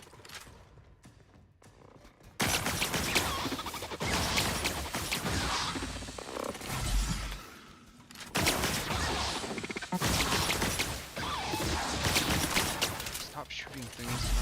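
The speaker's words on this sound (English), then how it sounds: "Stop shooting things at the target." Dense bursts of gunfire and combat clatter from The Outer Worlds video game erupt after a quiet start, with a short lull midway before the firing resumes, loud and busy, with a voice speaking over it.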